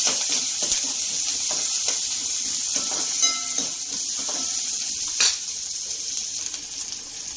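Chopped onion and green chillies are stirred in a hot pan for a bitter gourd dish, giving a steady, close frying sizzle broken by scraping and clinking of the spoon against the pan.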